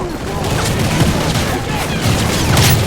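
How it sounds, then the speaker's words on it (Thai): A vehicle blows up amid a desert firefight in Call of Duty Modern Warfare 3, a loud continuous wash of blasts and crackling gunfire with no clear gaps, with voices talking under the din. "เออรถระเบิดไปแล้ว อ่าเปลี่ยนกระสุนแป๊บ โอ้ยรถระเบิด"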